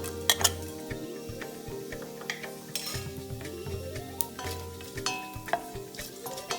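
Whole spices sizzling in ghee in a pan for prawn biryani, stirred with a utensil that clinks and scrapes against the metal in irregular bursts over a continuous close sizzle.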